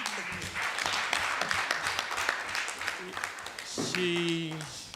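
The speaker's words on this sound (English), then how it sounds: "deserves another round of applause" A room full of people applauding steadily, with a voice speaking over the clapping near the end.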